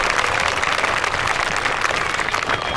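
Steady applause from a seated audience at an evening satsang in a Chittorgarh ashram, dense and continuous clapping filling the space without a break and with no talk over it.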